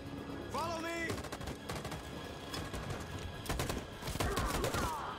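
Rapid machine gun fire in the video game Detroit Become Human, loud stuttering bursts rattling through the battle scene, joined by ricochet whines and a game soundtrack underneath.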